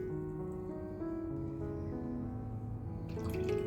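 Sugar and water are poured into a pot for halva syrup, a steady trickle and patter of liquid over a tonal background hum, with a brighter splash near the end.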